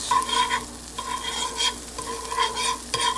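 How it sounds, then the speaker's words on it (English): Butter sizzling as it is spread around a hot frying pan before cooking corned beef hash, with a loud continuous sizzle broken by rhythmic scraping strokes of a utensil. "we're gonna use some butter for this one. And we're gonna actually go around the pan with it."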